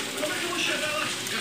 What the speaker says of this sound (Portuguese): Gente, olha como é que tá a chuva. Muita água